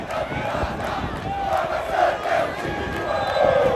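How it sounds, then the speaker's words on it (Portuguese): Water Santa football fans cheer and chant in unison inside São Januário stadium after a late comeback goal, a dense roaring crowd sustained throughout with rising sung phrases. "agora a torcida do Água Santa aqui atrás, mais feliz que tudo. Cantando"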